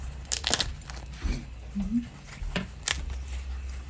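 A few sharp, crisp crunches from biting into a crunchy tortilla with green chili stew, close up, with quiet chewing between them and no talking.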